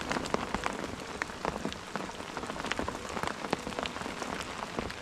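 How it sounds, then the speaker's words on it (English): Steady rain falling on a fishing bivvy, a dense continuous patter of drops drumming on the canvas shelter with no voices. "the rain is due to stay until about 4 o'clock this afternoon"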